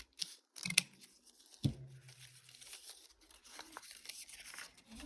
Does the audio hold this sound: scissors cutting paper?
yes